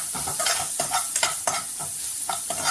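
Onions and masala sautéing in a pan for a Tamil potato masiyal, with steady sizzling broken by repeated stirring scrapes, close and fairly loud throughout.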